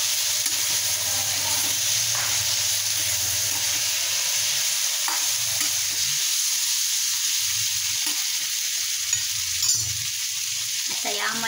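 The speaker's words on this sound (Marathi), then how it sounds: "धुवून हे गवार घेतलेला आहे तो घालायचा, चांगला याला या तेलामध्ये फोडणीमध्ये भाजून घ्यायचा।" Cluster beans (gavar) fry in hot tempering oil with a loud, continuous sizzle and occasional stirring scrapes, close up throughout over a low background rumble.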